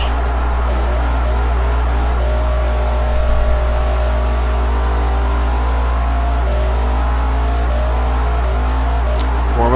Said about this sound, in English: Warm up the old donuts